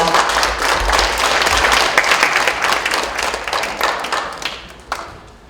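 Applause from the audience at a book-launch talk concert, greeting a pastor as he comes up to give congratulatory remarks; dense clapping holds steady, then thins out and fades near the end.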